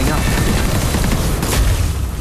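A character in Wuthering Waves fires a rapid, dense barrage of gunshots, loud and close, blending into booming impacts with a voice speaking over the fire.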